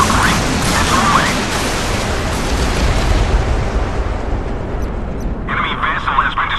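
A missile strikes and destroys an enemy warship in the Modern Warships mobile naval combat game, a loud, sustained rumbling blast filling the whole stretch, with brief higher game alert tones near the end.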